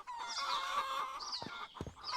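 Chickens cluck in a farming kingdom-building game, a few quick clucks near the end layered over soft background music.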